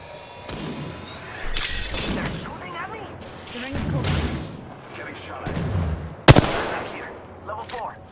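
Gunfire in the video game Apex Legends, bursts of rapid shots and sharp cracks scattered among game effects, one loud close shot near the end, with voice lines heard in between.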